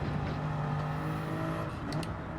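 Racing video game car engine on the Nürburgring, a steady loud drone with a sustained low engine tone that shifts pitch slightly as the driver downshifts, no talking.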